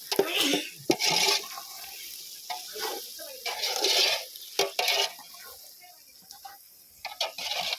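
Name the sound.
stirring chicken biryani in a large pot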